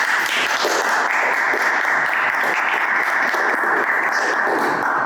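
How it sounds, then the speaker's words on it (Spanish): Audience at a book presentation in a cultural centre applauds an author, a loud, dense and steady round of clapping throughout with no speech. "recibiéramos a Melissa Rico, nuestra autora de hoy, con un gran aplauso"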